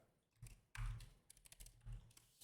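A few soft taps and clacks of typing on a computer keyboard, irregular and close, quiet overall with brief louder keystrokes.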